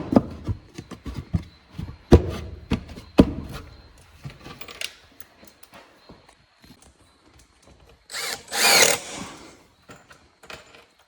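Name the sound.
power drill driving screws into bee box wood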